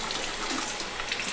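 Water running steadily from a tap into a sink while a child washes their face, a continuous gushing splash with no voices.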